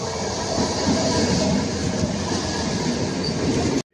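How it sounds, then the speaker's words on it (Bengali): A passenger train runs along the rails with a loud, steady rumble and squealing wheels, the noise continuing without a break before cutting off abruptly. "সকলে মিলে আমরা ট্রেনে উঠে পড়লাম"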